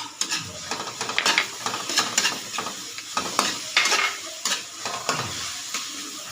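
Ginger going into a hot pot for sinigang with fish head, a close sizzle broken by repeated scraping and stirring strokes of a utensil against the pan in an uneven rhythm.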